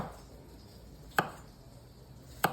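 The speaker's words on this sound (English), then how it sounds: "I cut up about, I don't know, 7, 8 cloves of it" A knife comes down on garlic cloves on a cutting board in two sharp, isolated chops about a second apart, crisp and close against a quiet kitchen background with no talking.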